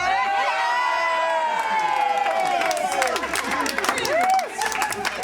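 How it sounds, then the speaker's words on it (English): A crowd of children cheers and shouts loudly and steadily, voices overlapping in excited whoops and rising pitched calls, with scattered clapping breaking through near the end. "Big cheer!"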